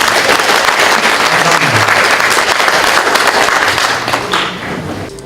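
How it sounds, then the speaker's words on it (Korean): Loud, dense applause from attendees closing an international symposium on healthy tap water, sustained clapping for about four seconds before thinning slightly toward the end. "오늘 행사를 큰 박수로 모두 마치도록 하겠습니다"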